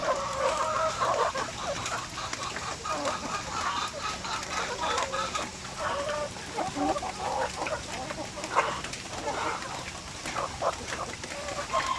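Backyard chickens clucking during the rainy season, several birds calling in overlapping bursts close by, a busy steady mix of clucks with a brief louder squawk partway through.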